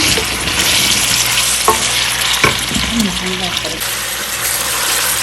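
Onions for chicken and chana dal fry loudly in a pan, a dense hissing sizzle broken by a few sharp stirring knocks and scrapes.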